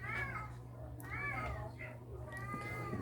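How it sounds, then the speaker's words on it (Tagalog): A cat meows several times at close range, rising and falling cries over a steady low hum, while people talk quietly nearby. "Ay, may pusa."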